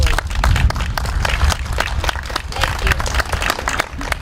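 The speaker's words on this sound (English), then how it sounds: "just want to give them a round of applause, please" Applause from a crowd at a VFW 9/11 remembrance gathering in Hornell, dense, steady hand claps filling the space for a few seconds, loud and close, with faint voices underneath.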